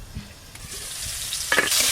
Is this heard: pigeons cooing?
no